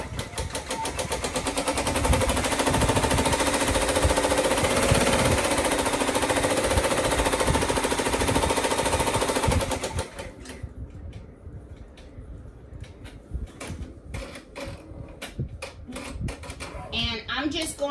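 An embroidery machine stitches an applique letter onto a quilted blanket with rapid, continuous needle hammering for about ten seconds. It then cuts to sparse, irregular clicks and taps.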